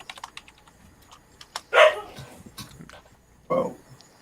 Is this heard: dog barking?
yes